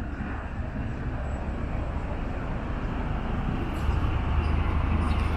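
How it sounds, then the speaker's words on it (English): Steady, loud low rumble of trains passing close to a canal boat mooring near a road between Bingley and Saltaire, continuous and swelling slightly toward the end with no talking. "So you can see you've got the trains there and there's a road there as well."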